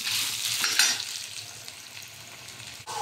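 Ginger pieces fry over a low flame in a pan while being stirred, giving a steady soft sizzle with faint scraping stirs, close and alone without talk.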